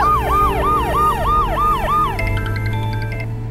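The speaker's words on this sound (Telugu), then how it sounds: "మీరా, అంబులెన్స్ ని పిలవండి మీరా." An ambulance siren wails in rapid, repeated rising-and-falling cycles, then switches to a shorter alternating tone, loud and close over a low vehicle engine rumble in a film scene.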